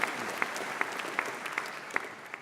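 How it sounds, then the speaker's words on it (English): A graduation ceremony audience at Birmingham City University claps quietly, a soft continuous patter with a few sharper individual claps standing out at a steady pace. "Yeah, you can clap."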